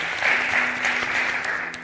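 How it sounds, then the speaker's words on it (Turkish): A studio audience and crew applaud chef Halil on a cooking competition set, a steady dense burst of clapping that holds at even strength for nearly two seconds before easing slightly. "Halil şefimize de bir alkış alalım"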